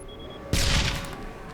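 A grenade detonates against sharks in the 2007 Interstellar Marines publisher demo, a video game: one sudden, loud, close blast about midway, followed by a broad crackling rumble that slowly fades.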